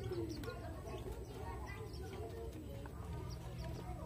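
Caged songbirds, including white-eyes (pleci), chirp faintly in the background, with scattered thin, short calls over a low murmur of room noise and other birds.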